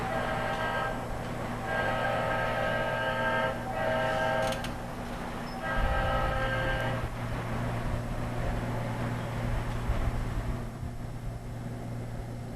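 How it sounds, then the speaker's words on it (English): Locomotive whistle blowing in several long harmonic blasts as the train approaches the grade crossing at Madison Junction, heard over a steady low engine drone with a deeper rumble rising partway through. "Approaches the grade crossing at Madison Junction, and of course it'll blow its whistle."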